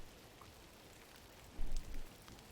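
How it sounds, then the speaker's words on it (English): Soft, steady rain patters quietly in the GRIS video game, with a brief louder rumble partway through. "And there's rain."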